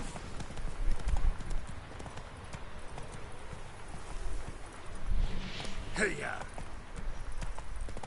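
Roach the horse gallops in The Witcher 3, a steady clip-clop of hooves running throughout, with a shouted rider's call and another voice speaking briefly over it.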